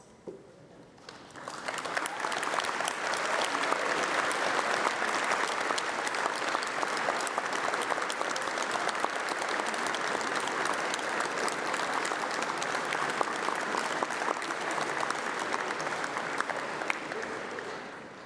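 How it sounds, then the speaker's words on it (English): A university graduation ceremony audience breaks into applause, a large hall of clapping that swells quickly after a quiet start and holds a steady, full roar before easing off at the end. "please stand up while we give you a round of applause"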